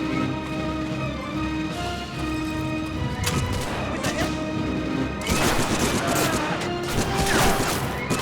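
Enemy gunfire in the World War II shooter Medal of Honor: Frontline, a steady barrage of shots and crashing impacts running under music, growing denser and louder in the second half.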